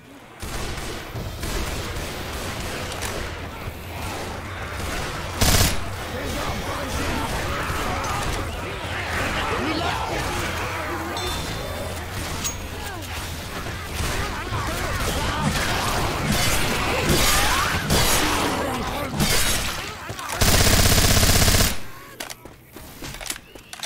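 Gunfire in the video game Left 4 Dead 2, bursts of rapid shots and single cracks over a busy, chaotic mix, with a very loud blast near the end and voices talking between shots.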